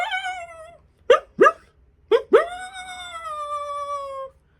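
A person vocally imitates a coyote: a few sharp yipping barks followed by a long, sustained wavering howl, loud and close with no other sound.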